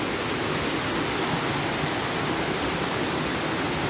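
Steady broadband rush of falling water at a waterfall, loud and unbroken throughout with no voices over it.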